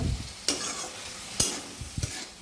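Flat beans mixed with poppy seed paste in a pan, with soft sizzling under three or four sharp spatula scrapes spaced about a second apart.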